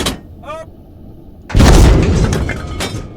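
A single heavy tank main gun blast in the video game Squad, firing a HEAT round, booms loudly and rumbles out after a brief voice, the low roar decaying over the next second or so.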